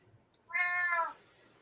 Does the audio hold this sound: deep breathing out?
no